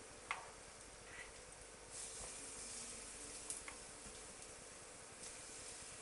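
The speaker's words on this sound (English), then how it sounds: "So we're going to fry it in just spoonfuls" Sweetcorn fritter batter dropped by the spoonful into a hot pan sizzles steadily in a faint, continuous hiss, with a few soft clicks and taps over it and no talking.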